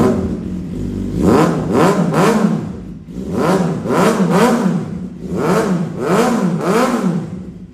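Engine of a Suzuki GSX-R 750 motorcycle revved repeatedly in a stationary sound test, rising and falling in about five loud, close bursts over a steady idle.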